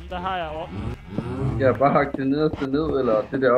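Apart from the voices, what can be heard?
cows mooing in Minecraft-style video game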